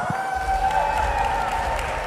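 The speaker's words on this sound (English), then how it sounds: "Maib Serdang, a round of applause." An esports playoff crowd at MPL Malaysia Season 16 applauds in a steady, moderate wash of clapping, with a held tone and some crowd noise under it.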